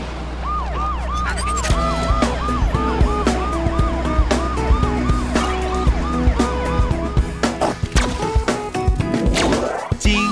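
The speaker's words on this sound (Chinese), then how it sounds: "警车，警车，滴滴呜" A cartoon police car siren from a children's animated song plays as a repeating rising-falling wail, loud and steady over music with percussive hits, continuing through most of the stretch without speech.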